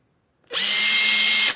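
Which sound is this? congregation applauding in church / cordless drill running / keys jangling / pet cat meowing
cordless drill running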